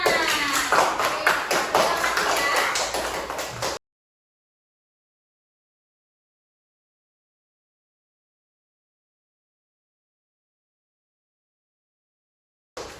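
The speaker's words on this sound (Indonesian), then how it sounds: "Tepuk tangan." Children in a classroom clap their hands for about four seconds, a quick run of close, bright claps with a lively uneven rhythm, followed by silence.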